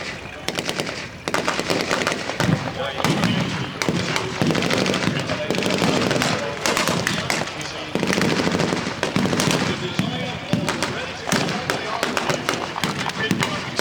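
Simulated explosions and rapid machine-gun fire crackle through a Tankfest 2023 battle reenactment at the Tank Museum, dense bursts of shots and booms going on nearly nonstop, with voices talking over the din.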